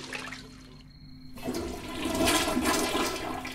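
A toilet flushes in the video game OMORI, a short click followed by a loud rushing swirl of water that builds and holds steady, with no voices over it.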